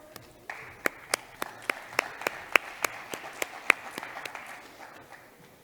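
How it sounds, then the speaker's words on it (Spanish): Sparse, quiet clapping from a small audience at a round-table panel session in Burgos, with a dozen or so distinct claps at a slow, uneven pace. "Por favor, un aplauso"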